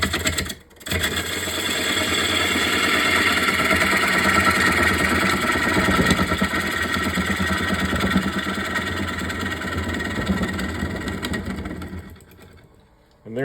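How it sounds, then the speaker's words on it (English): A gouge cutting into a wooden bowl on a woodturning lathe, a loud continuous whirring, scraping drone held for most of the stretch before tapering off near the end. "And there is a gouge cut"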